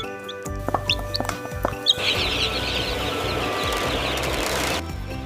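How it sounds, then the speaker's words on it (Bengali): Broiler chickens on a specially prepared farm chirp and cluck in short overlapping calls over a steady mechanical hum, with no voices. "এই ব্রয়লার মুরগিগুলোকে নেওয়া হয় বিশেষভাবে প্রস্তুত করা ফার্মে"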